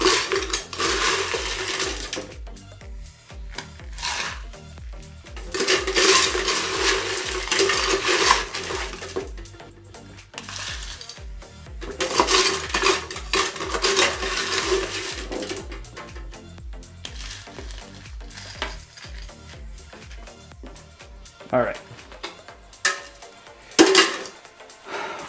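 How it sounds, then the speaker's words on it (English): Ice is added to a Shrunken Skull tiki cocktail in a rocks glass, making loud, close clinking and rattling in repeated bursts for about twenty-five seconds, with no speech. "Gonna add some more ice to this cocktail."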